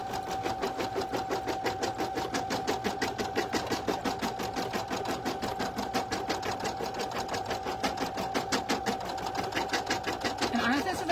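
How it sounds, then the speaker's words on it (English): An embroidery machine running placement stitches for three pieces in a 5x7 hoop on stabilizer, a steady rapid needle chatter with a constant motor hum throughout, close and continuous. "it's going to run those placement stitches for all 3 pieces on the 5x7 on my stabilizer"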